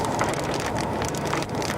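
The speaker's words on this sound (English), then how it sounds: "How big is this hail?" Hail falls during a tornado storm, a dense, steady clatter of ice striking surfaces that holds loud and unbroken from start to finish with no voices.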